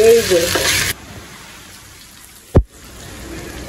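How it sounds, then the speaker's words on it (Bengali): Malabar spinach curry with dried fish is stirred in a very large wok, giving a loud sizzling scrape for about a second before settling to a quieter simmer, then one sharp knock of the utensil against the pan. "এখন কিন্তু আমি লাড়াচাড়া দিয়ে দিছি"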